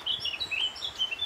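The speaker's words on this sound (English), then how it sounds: "Listen to that bird." A single bird sings a run of high, quick chirps and short whistles, fairly close and clear against quiet surroundings.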